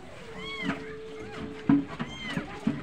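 A pet cat meows in a home shared with a hen, short harmonic calls rising and falling near the start and again later, close by, with people talking over and between the cries.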